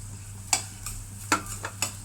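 Coriander seeds, cumin and fenugreek go into a pan with urad dal for tellagalijeru chutney: five or six crisp clinks and scrapes at irregular intervals over a faint, steady sizzle.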